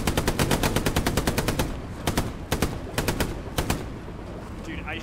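Automatic weapons fire in the WWII shooter Hell Let Loose: a long rapid burst of machine-gun shots, then shorter clipped bursts spaced apart, loud and close.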